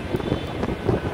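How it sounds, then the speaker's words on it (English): Wind buffeting a phone microphone outdoors in nasty New York City storm weather: loud, rumbling gusty blasts that rise and fall unevenly, close and continuous, with no talk. "it's windy, so I apologize if you hear a lot of wind in the vlog"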